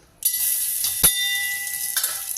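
Washed moong dal roasting in ghee in a pan, a steady bright sizzle that starts abruptly and carries on, with one brief scrape of stirring partway through.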